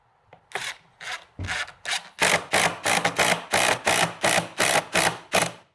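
A drywall screw is driven into solid white oak, the threads coated in Croil, giving a run of rhythmic rasping, ratcheting bursts from a driver that grow steadier and louder, each pulse close and dry with no talk.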